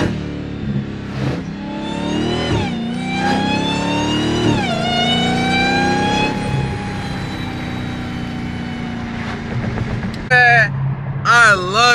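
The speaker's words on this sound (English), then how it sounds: "I just want y'all to hear the car again." A 2023 Dodge Challenger Hellcat with a Stage 1 Direct Connection upgrade revs repeatedly, its supercharged engine sweeping up in pitch and falling back in loud surges, with a high whine near the end.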